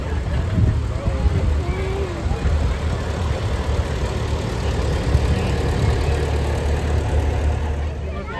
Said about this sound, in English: Ooh, you see that tractor